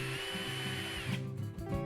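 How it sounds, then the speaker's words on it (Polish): A Bosch GSB 12V-30 cordless 12-volt drill driver runs steadily with a close, loud motor whine and gear hum, the pitch shifting as the trigger changes speed, no talking. "spust, który uruchamia wiertarko-wkrętarkę i pozwala na regulację jej obrotów"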